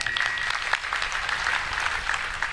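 Audience applause at a village religious discourse gathering in Achatt, Nowgong, with a steady wash of clapping from a crowd throughout, fairly close and even in level.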